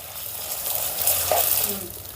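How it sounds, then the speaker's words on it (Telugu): Ginger garlic paste frying in a pan for ridge gourd curry, a soft, even sizzle with light stirring, moderately close and fairly quiet. "ఇప్పుడు ఈ అల్లం వెల్లుల్లి పేస్ట్ని పచ్చివాసన పోయేంత వరకు ఫ్రై చేసుకుందాం"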